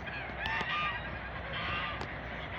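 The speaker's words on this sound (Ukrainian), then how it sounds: "Вирішив розбудити гусей" A flock of geese honks continuously, many overlapping nasal calls close by, busy and loud.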